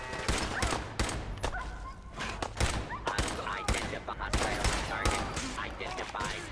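Rapid bursts of rifle fire in Fallout 4 crack repeatedly over a low rumbling game soundscape, dense and continuous throughout.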